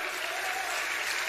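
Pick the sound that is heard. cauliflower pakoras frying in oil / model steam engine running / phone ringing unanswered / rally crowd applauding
rally crowd applauding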